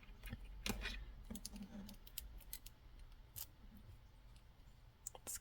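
Scissors trim crochet yarn on a Frozen Elsa doll kit, giving a few faint, close snips and clicks scattered over a few seconds. A voice murmurs softly underneath.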